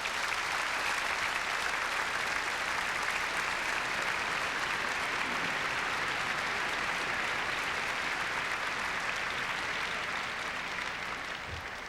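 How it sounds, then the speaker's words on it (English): A large telethon audience applauds continuously, a dense steady wash of clapping that holds at an even level throughout, with no voices rising above it. "I hope he can hear the applause I hope you will give him"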